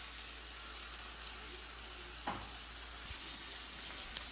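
Zucchini sizzles and fries in a pan, a quiet, steady crackling hiss broken by a couple of faint clinks, with no one talking.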